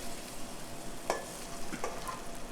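Blended huevos rancheros sauce cooks in a pan, giving a soft, steady sizzle with a couple of brief stirring scrapes partway through; no one speaks.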